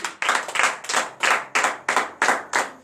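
A congregation at a morning prayer service in Benin claps in acclamation to Jesus, loud, evenly spaced claps in a steady rhythm of about three per second, each with a short ringing tail.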